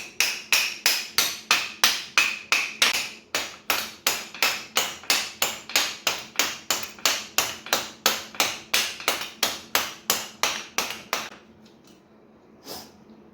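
About thirty sharp metallic hammer blows knock out a seal on a Yamaha Raptor 250 in a steady, even rhythm, close and loud, ending with a few faint scrapes.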